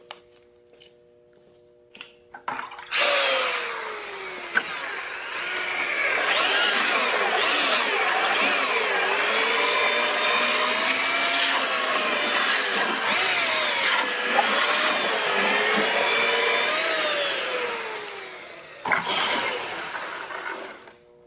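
A mixer churns concrete countertop mix with fibers added, a loud steady whirring drone that starts abruptly, runs evenly for about fifteen seconds with wavering pitch, then cuts off, with a few knocks before and after.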